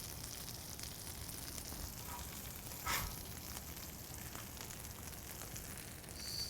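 A burger patty and bacon slices sizzle steadily on a Blackstone griddle, a soft continuous hiss and crackle with one brief sharper pop near the middle and no talk.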